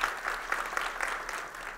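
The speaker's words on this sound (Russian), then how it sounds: "Давайте наградим аплодисментами." An audience at a potato-growing industry conference claps in a short burst. The sharp, overlapping claps are moderately distant and fade toward the end.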